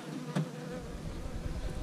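Honeybees buzz steadily around a queen marking cage set down on the colony, a close, continuous hum with no talk.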